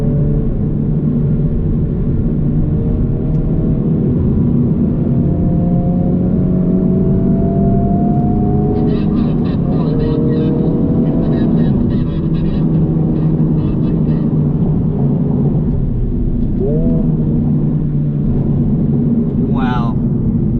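A 2023 Honda Civic Type R driving at speed on a raceway, steady loud engine drone and road rumble throughout, with shifting engine pitch as it accelerates and brief higher tyre or wind sounds near the end.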